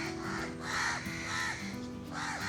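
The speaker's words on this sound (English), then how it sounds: "all the crows are just around it yelling at it" A flock of crows caws loudly and repeatedly at a monitor lizard swallowing a baby crow in Sungei Buloh Wetland Reserve, Singapore, with overlapping harsh calls in irregular bursts.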